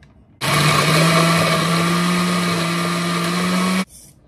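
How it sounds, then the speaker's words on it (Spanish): A blender grinding guaje and cilantro with water roars to life, grinding steadily at high speed for a few seconds, then stops abruptly, loud and close. "Ahora vamos a moler el guaje con el cilantro"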